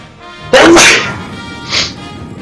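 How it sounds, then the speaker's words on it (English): A single loud, close human sneeze with a sharp explosive burst, followed by a softer breathy exhale a second later. "Sneezing coming."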